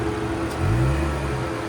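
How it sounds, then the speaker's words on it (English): A tuned 2013-2016 Audi S5 with a supercharged 3.0L V6 revs briefly, giving a short rising engine swell with a steady tonal supercharger whine, close by and with no voices. "You'll hear the whine of the supercharger."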